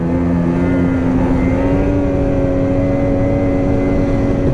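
Snowmobile engine droning loud and steady while riding a narrow trail near Sudbury, Ontario, a constant close motor hum with no talk over it.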